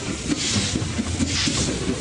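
A train runs steadily in a kids' train racing video game set in a dinosaur park, giving a continuous rumbling drone with faint rhythmic clicks throughout.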